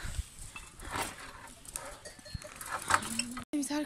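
Goats being herded into a farm barn: scattered bleats, hoof clatter and shuffling movement at close range, with a faint voice in the background and a door-like thud near the end.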